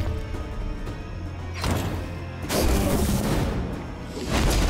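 A dull booming explosion in the strategy video game Songs of Conquest, with a couple of heavy bursts of rumble rising over a steady musical background, no talk.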